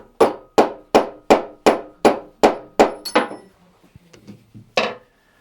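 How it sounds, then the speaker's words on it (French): A mallet taps repeatedly on a valve in a Peugeot 205 cylinder head, about nine sharp, evenly spaced metallic knocks ringing close up, then a short pause with faint clinks before one last hard strike. "Je vais tapoter un peu au marteau dessus, donc là, pas au marteau mais au maillet."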